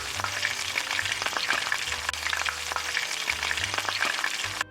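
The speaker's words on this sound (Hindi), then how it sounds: "कड़ी पत्ता भी डाल दिया है और फिर इस तड़के को मैंने चटनी पे डाल दिया है" Hot tempering with curry leaves poured over coconut chutney sizzles loudly and steadily, a dense crackling hiss with scattered pops and faint low stirring hum throughout, no voices.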